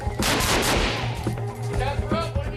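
Live-round gunfire in a military shoot house during Stryker brigade training: a loud burst of several rapid shots at the start, then a few sharper reports echoing inside the building.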